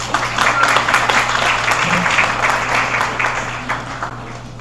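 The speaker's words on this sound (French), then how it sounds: "sous vos applaudissements" An audience at a conference workshop launch applauds a speaker's welcome, a thick, continuous roll of clapping from many people in a room with a steady low hum beneath, fading slightly toward the end.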